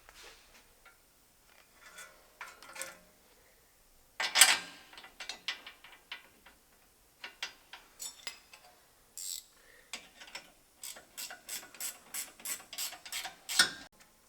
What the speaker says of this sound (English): So we just tightened the 4 18 millimeter bolts up